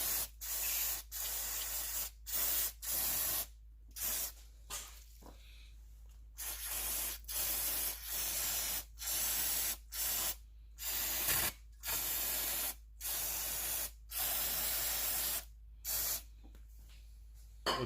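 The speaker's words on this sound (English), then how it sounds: "I'm gonna spray it with brake clean here" Brake cleaner sprayed onto a Honda Prelude 2.2L engine block near the distributor, a loud close aerosol hiss in a long run of short and longer bursts separated by brief pauses.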